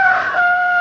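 A rooster crowing as a sound effect, one loud, sustained crow heard up close and alone.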